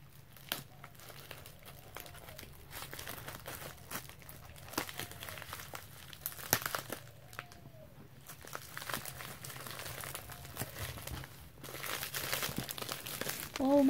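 A package holding a pillowcase is opened, with soft crinkling and tearing of packaging in irregular bursts, fairly quiet and close, with no talking.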